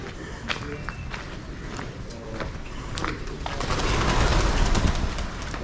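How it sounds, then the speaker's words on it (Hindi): Pigeons coo softly while wings flutter and flap in an echoing space, a disused locomotive shed with abandoned metre-gauge steam locomotives, with scattered shuffling and clatter. "कबूतरों ने बसेरा किया हुआ है और यहाँ से उड़ान भरते हैं"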